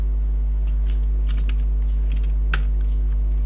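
Keys clatter on a computer keyboard while someone types C# code, a loose run of light clicks near and fairly quiet over a steady hum, with one sharper keystroke toward the end.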